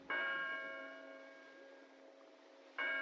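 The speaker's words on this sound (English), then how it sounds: "it struck 3 o'clock on the new bell tower" A large bell in a new clock tower strikes the hour. Each loud, resonant stroke rings out with a long, slowly fading hum. A second stroke lands just as the first dies away.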